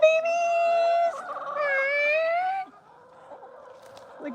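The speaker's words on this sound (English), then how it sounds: "Come on, chickens!" Chickens at an exotic animal rescue give loud, drawn-out squawking calls close by, then fall to quieter background clucks.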